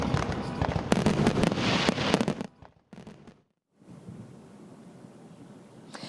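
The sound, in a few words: fireworks display at the Queen Mary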